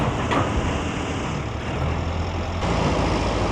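Truck wheels spinning in loose sand at a construction site, a steady low engine rumble with churning tire noise throughout, loud and continuous.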